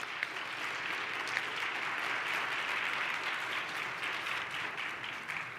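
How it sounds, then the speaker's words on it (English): Audience applause after a presentation on HPV vaccination fills the room as a steady, even wash of many hands clapping, moderately distant and continuous from start to finish. "Big round of applause."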